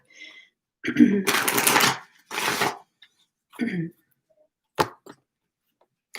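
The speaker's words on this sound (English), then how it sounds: "One more shuffle for this deck." A tarot card deck is shuffled in several quick riffling bursts separated by pauses, followed by a few sharp taps, with a voice briefly present.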